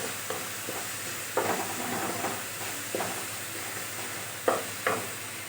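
Onion and garlic fry in a pan with salt and turmeric, a steady close sizzle and hiss broken by several sharp scraping stirs of a spatula against the pan.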